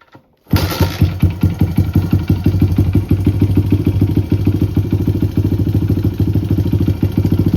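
A Honda XR100 dirt bike's small single-cylinder engine, freshly tuned at idle and air-fuel mixture, fires up and settles into a steady, throbbing idle, close and loud, with no voices.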